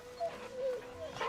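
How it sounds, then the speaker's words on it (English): A dog in the video game Final Fantasy XVI gives a few soft high whimpers and yips, quiet and close over a low game background hum, with no speech. "You can pet the dog."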